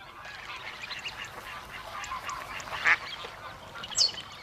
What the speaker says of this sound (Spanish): El pato real es el origen de casi todos los patos domésticos